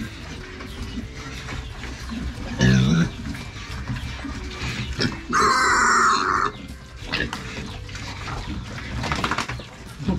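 Pigs on a farm give short grunts and a couple of louder squeals amid pen noise, with a person talking nearby between the animal sounds.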